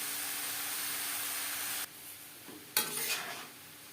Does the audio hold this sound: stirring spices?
yes